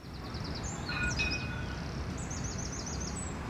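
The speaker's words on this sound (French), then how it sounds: "On entend les oiseaux." Several birds chirp and whistle in short repeated phrases over a steady low rumble of distant city traffic along a tree-lined route.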